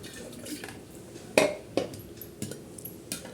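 Water added to a steel mixer jar in a home kitchen, then the jar knocked and shaken, giving a few sharp metallic clinks over faint sloshing, close up with no talk.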